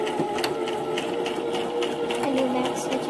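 A sewing machine runs a short back stitch while sewing a small crossbody bag, its steady mechanical whir continuous and close, with brief shifts in pitch as the stitching direction changes.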